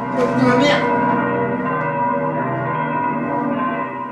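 The church bells of Sainte-Opportune ring out loud and resonant, a sustained, overlapping peal with long humming decay and no voices.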